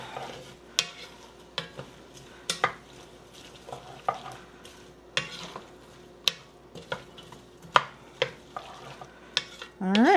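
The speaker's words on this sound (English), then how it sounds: "stir that around a bit" Ingredients for homemade tomato soup, salt just added, being stirred in a pot, giving repeated scraping and clanking strokes at an uneven pace under a faint sizzle, close up, with a brief louder clatter at the end.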